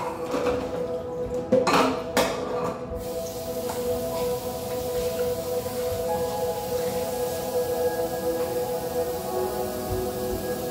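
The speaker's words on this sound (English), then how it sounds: "So now I'm just going to wash a little bit of dishes I have in the sink and clean up the kitchen." Dishes being washed in a home kitchen sink: a few clanks of plates and cutlery early on, then a steady rush of running water with faint clinks underneath.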